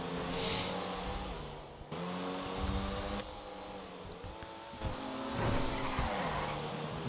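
Race cars roar around Zancudo Raceway in GTA Online, engines revving with shifting pitch and tires squealing through corners, loud and continuous with no talk.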